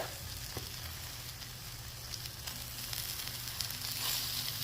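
A bun toasting on a 22-inch VEVOR tabletop griddle, steady close sizzling and frying hiss with a few faint scrapes and clicks, no talk.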